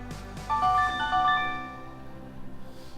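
A smartphone rings out with a short, bright melodic ringtone phrase triggered remotely through a Chromebook's Phone Hub locate feature, loud and close, then it fades into quieter room noise with soft thumps.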